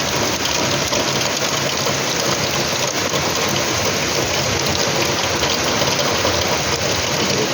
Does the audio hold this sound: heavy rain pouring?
yes